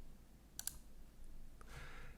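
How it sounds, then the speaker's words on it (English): Two quick computer mouse clicks close together, a third faint click a moment later, then a brief soft rustle, all alone with no talk at low level. "Click on the image button"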